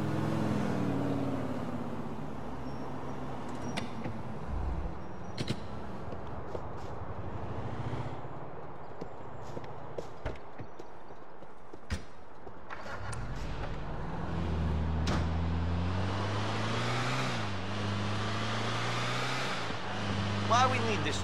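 A truck's engine drones steadily in GTA IV, rumbling low throughout with shifting pitch as it drives, while people talk over it.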